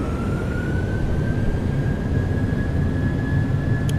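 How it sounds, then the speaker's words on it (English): A Boeing 737-800's engines at takeoff power in a flight simulator game give a steady, loud, broadband roar with a thin, slowly rising whine through it, and no talking. "Takeoff power is set."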